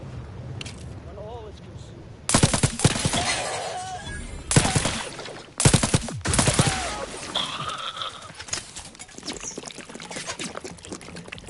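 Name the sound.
biomass weapon firing in video game Outer Worlds 2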